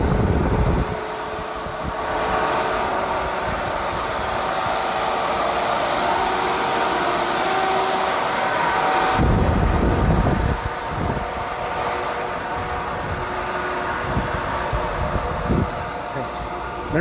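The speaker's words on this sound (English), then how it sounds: "The reason why you hear all that noise is strictly the radiator." Radiator cooling fans of a Nikola truck running on a very hot day with the hood open, a loud steady whooshing roar of air that holds constant throughout, with brief changes and a voice talking faintly underneath.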